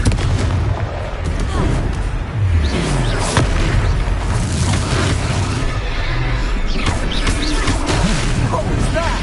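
A Confringo spell explosion in a Harry Potter video game bursts amid continuous loud battle booms and blasts, dense and close, with shouted voices mixed in.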